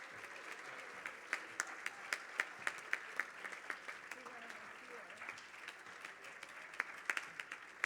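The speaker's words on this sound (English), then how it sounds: "You all deserve an applause." Conference closing audience applauding, a sustained patter of many hands clapping with sharp individual claps standing out, fairly distant and steady throughout.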